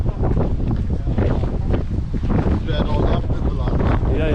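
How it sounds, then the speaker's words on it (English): Wind gusting across an exposed hillside on a hike to Dovestone Rocks, a loud, steady roar buffeting the microphone, with faint voices now and then beneath it. "The wind's out."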